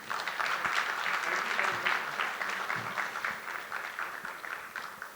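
Audience applause at a school rankings awards ceremony, a full burst of clapping that gradually tapers off.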